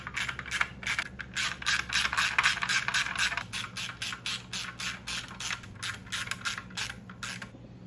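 Ratchet snugging bolts on a BMW S54 engine bottom end during a rebuild, rapid ticking pawl clicks in quick bursts over a steady low hum, close and clear.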